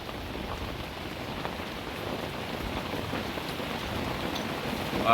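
Heavy rain pours steadily on a wild campsite at night in a dense, unbroken hiss, with no voices, only the constant wash of falling water.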